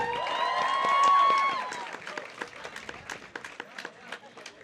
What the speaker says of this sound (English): Congratulations and a big round of applause for the graduating class of 2017